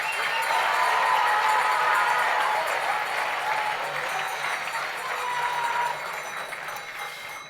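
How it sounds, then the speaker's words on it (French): Audience applause at a ski federation awards ceremony, a dense sustained roar of clapping from a large crowd that holds strongly, then gradually thins and fades toward the end. "un tonnerre d'applaudissements pour ces hommes"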